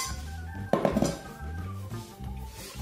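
Kitchen pots are handled and set down to drain after straining meat broth, with one sharp metallic clank followed by softer knocks and rattles nearby.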